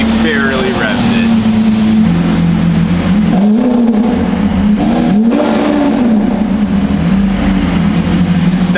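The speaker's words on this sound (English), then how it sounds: "No, he barely revved it." A Ferrari engine holds a loud, steady idle with a deep low drone, then lifts briefly in a mild rev and settles back, recorded close up.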